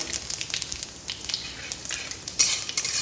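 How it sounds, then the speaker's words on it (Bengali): Dry red chili, cumin seeds and a bay leaf tempering in hot oil, giving a soft, steady crackling sizzle with light metallic stirring taps and scrapes. "এবার আমি এই ফোড়নগুলো দিয়ে নেব। একটা শুকনো লঙ্কা, হাফ চামচ জিরে আর একটা তেজপাতা।"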